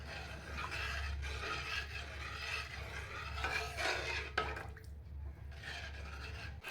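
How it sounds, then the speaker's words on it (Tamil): Rava kesari being stirred continuously in a pan over low heat, a steady soft scraping and rubbing with faint wet sticky sounds, fairly close, with no talk. "இது நல்லா கைவிடாமல் கிளறணும்."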